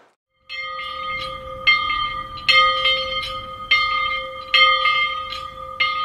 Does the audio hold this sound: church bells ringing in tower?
yes